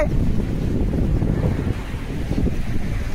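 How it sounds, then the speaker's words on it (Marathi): Sea waves wash onto Shiroda Velagar beach under heavy, rumbling wind noise, a continuous low roar with no clear voices. "प्राची गावडे आलेली आहे समुद्रावर"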